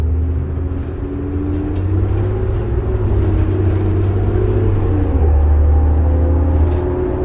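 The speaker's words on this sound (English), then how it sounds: "you don't even have to give that this bus much throttle when it goes" A Calgary Transit 2005 New Flyer D40LF diesel city bus drives along, heard from inside as a loud, steady low engine rumble and drivetrain whine with rattles, no talk over it.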